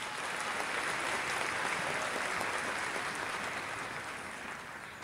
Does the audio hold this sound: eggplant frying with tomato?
no